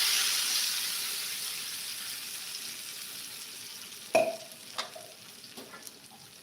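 Sambal of blended tomato fries in a pan with salted fish and shallots for nasi liwet, a loud sizzle at first that fades to a quieter crackle, then a few sharp stirring clacks near the end.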